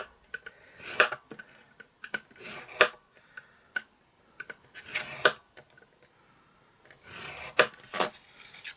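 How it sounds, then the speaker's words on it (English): A blade or bone folder scores card stock along ruled score lines at 1/8-inch intervals: several close, dry raspy scraping strokes come in short bursts with brief pauses between them, and no one speaks. "Then in between these two 1/2 inch score lines, you need to score it at 1/8 intervals."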